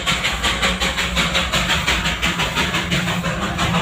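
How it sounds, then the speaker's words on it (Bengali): Darjeeling toy train runs along a hill road shared with cars, its wheels beating a fast, steady clickety-clack rhythm, close and loud throughout. "এখানে টয় ট্রেন আর গাড়ি একসাথে চলাচল করে"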